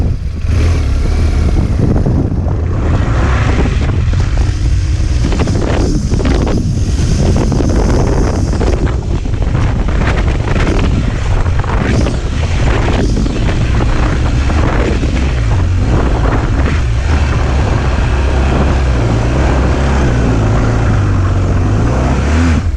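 Motorcycle climbing a rutted track up a slope in outback Queensland, its engine a loud continuous roar buried under heavy wind buffeting on the microphone, with rough bumpy surges and no talk.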